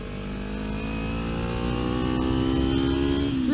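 A motorcycle leaning through a turn, its engine droning steadily close up and rising in pitch as it accelerates out near the end, with wind noise and no talking.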